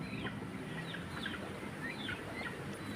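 Chickens and chicks on a farm cluck and peep in short, repeated calls, faint and somewhat distant over a low background hum.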